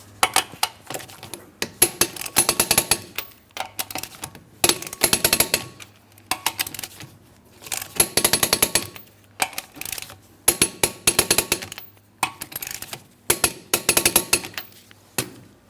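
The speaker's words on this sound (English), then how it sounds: "Let's go ahead and torque these lug nuts to that 100 foot-pounds." Wrench clicks sound in bursts as wheel lug nuts on a 2003-2007 Cadillac CTS are torqued to 100 foot-pounds, sharp metallic ratcheting repeated about a dozen times with short pauses, close and fairly loud.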